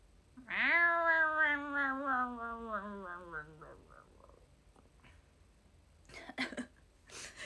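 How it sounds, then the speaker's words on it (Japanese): Cat meowing from cat meme videos played on screen: one long, loud, drawn-out meow with falling pitch, followed by quiet and then a few short bursts of sound near the end. "画面越しに猫ミームで対決してる"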